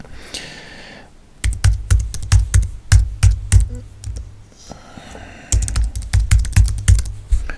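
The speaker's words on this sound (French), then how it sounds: "j'appuie deux fois sur la barre d'espace" Keys on a Mac keyboard running macOS Sierra, including the space bar, are pressed in two loud, close bursts of quick, crisp clicks separated by a short pause, with no talk.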